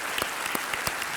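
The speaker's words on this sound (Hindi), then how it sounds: "तालियों के साथ उनका अभिनंदन" A studio audience on a quiz game show applauds a departing contestant. The clapping is steady and close, with a few sharper rhythmic accents.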